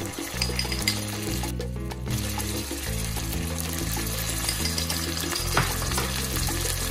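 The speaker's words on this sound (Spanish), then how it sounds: "Esperamos un minuto que se sofría y ponemos el ají pan." Base for a Peruvian fish sudado frying in a pan, a steady sizzle with stirring scrapes throughout, under a continuous layered background tone.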